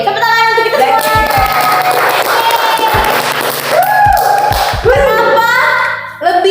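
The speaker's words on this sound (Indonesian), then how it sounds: "tepuk tangan untuk kita semua" A student audience at an Indonesian welcome event claps and cheers loudly, voices shouting and calling out over the clapping throughout.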